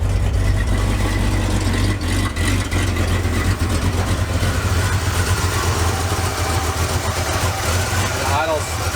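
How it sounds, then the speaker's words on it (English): An abandoned Ford F100 truck idling after its first start in years, a close, steady low engine rumble with a slight uneven shake, while someone talks over it. "The idle's, it's got a little shake to it"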